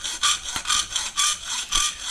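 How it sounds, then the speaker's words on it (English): Ordinary hacksaw cutting a marked shape from 3mm metal plate: four close, rhythmic rasping strokes, each a bright gritty scrape, with no talking. "Start with an ordinary hacksaw, for more control"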